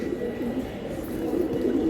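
Giribaz silver pigeons cooing softly and continuously, a low murmuring coo close by with no talk over it.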